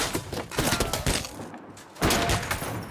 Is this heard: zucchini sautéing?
no